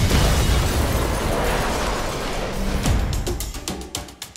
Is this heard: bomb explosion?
yes